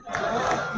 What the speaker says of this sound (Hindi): सभी साथी तालियां लगातार बजाते रहे, तालियां रुकनी नहीं चाहिए, नारे रुकने नहीं चाहिए